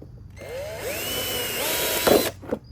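Power drill fitted with a 5/32 bit drilling out rivets on a 2016 Yamaha YZ450F, a steady close whine with rising pitch sweeps and a sharp grinding burst as the bit bites near the end.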